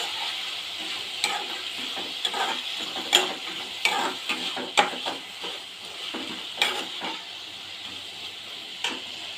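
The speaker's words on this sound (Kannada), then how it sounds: "ಅದು ಎಣ್ಣೆಲಿ ಸ್ವಲ್ಪ ಫ್ರೈ ಆದರೆ ಫ್ರೈ ಮಾಡ್ಕೊಂಬಿಡ್ಬೇಕು" Ingredients fry in hot oil for a sambar, giving a steady close sizzle with scattered sharper pops and occasional stirring scrapes. No one speaks.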